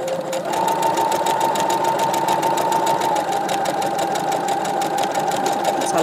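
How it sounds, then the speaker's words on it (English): A sewing machine stitching a buttonhole, a loud, steady, rapid mechanical whirring and needle clatter running continuously at close range, its pitch shifting slightly partway through. "So what it's going to do first is it'll sew backwards to create a straight line, and then it'll zigzag over that line"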